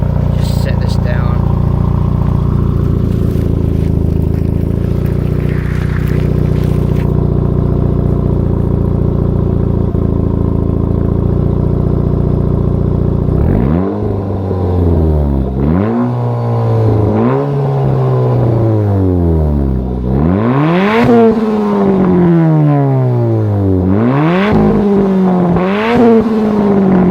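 The stock exhaust of a 2008 Dodge Caliber SRT-4 engine idles steadily, then revs repeatedly in rising and falling sweeps, loud and close, growing sharper in the later blips.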